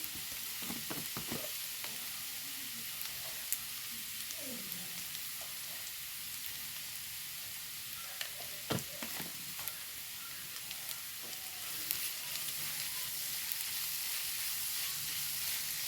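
Sliced onions with curry leaves and turmeric sizzle in a pan while being stirred, a soft, steady frying hiss broken by occasional scraping strokes of a spoon, close and fairly quiet with no talking.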